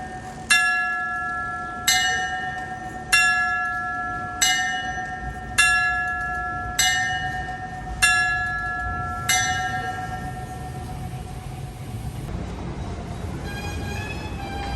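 The clock tower bell in Old Town Bern strikes eight loud, evenly spaced clangs about 1.3 seconds apart, each ringing out with a long decay before fading into street ambience.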